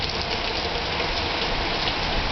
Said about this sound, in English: Come over by the sprinkler?